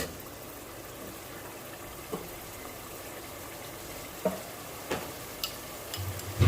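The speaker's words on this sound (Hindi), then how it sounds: "और ये हमने इसमें डाल दिया है पानी।" Water poured into a pan of white chicken korma with cream simmers in a low, steady sizzle, broken by a few sharp clinks of a spoon against the pan.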